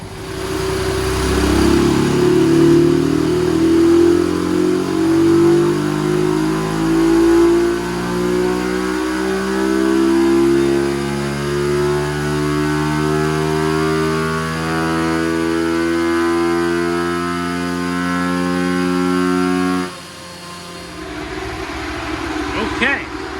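A Madass 141cc minimoto with a cam upgrade revs hard while being ridden, its engine pitch climbing through repeated gear pulls, loud and close, then dropping off sharply near the end.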